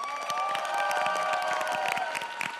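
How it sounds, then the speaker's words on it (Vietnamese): An audience at a Vietnamese traditional-opera singing contest applauding two duet pairs, dense sustained clapping and cheering from a crowd, loud and continuous. "Tràng pháo tay khích lệ cho hai cặp đôi này."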